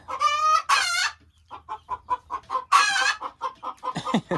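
Hens cluck close by in a chicken coop in a quick series of short clucks, broken by a couple of louder, drawn-out squawking calls as they wait to lay eggs.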